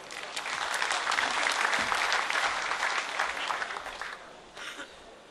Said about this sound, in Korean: 힘찬 박수로 단상으로 모시겠습니다.